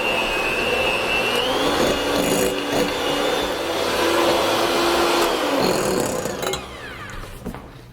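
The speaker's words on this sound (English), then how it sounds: "And then we'll just mix this up until it's light and fluffy." An electric mixer creams room-temperature butter with cream cheese for gingerbread cookie bars, a continuous close whirring drone with scraping against the bowl, cutting off near the end.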